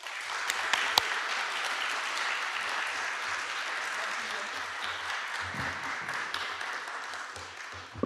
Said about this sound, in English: please put your hands together, make a big applause for Vice-Rector for Internationalization of the University of Wrocław, Professor Patrycja Matusz.